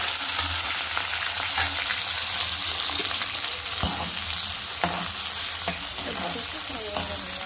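Onions, green chillies and curry leaves sizzle loudly in hot oil with cumin seeds. The steady frying hiss is broken by scattered pops and the scrape of a spoon stirring in the pan.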